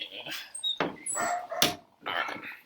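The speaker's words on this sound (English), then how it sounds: "Sorry about my dogs. They're kind of barking a little bit." Dogs barking and whimpering indoors in short bursts, a few sharp yips breaking through, close and fairly loud, with pauses between barks.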